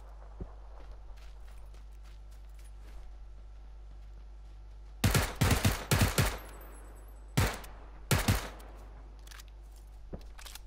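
Gunfire in the video game PUBG: loud rapid bursts of shots in two clusters, following quieter footsteps and light game sounds.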